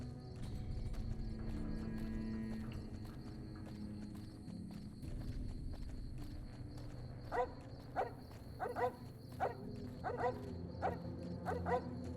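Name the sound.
dog Dogmeat barking in video game Fallout New Vegas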